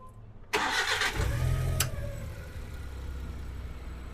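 A Daewoo Damas minivan converted to run on gas fires up with a sudden mechanical burst, then settles into a steady mid-pitched idle heard close by and alone.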